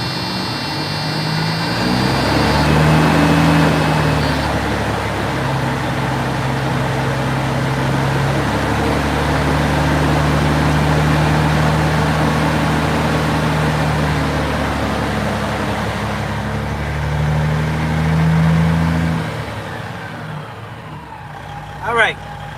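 A 1999 Freightliner Classic XL truck's diesel engine runs steady at 1,500 RPM, a loud continuous drone with strong low harmonics that holds throughout and fades near the end, with a brief click at the close.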